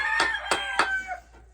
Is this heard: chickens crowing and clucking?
yes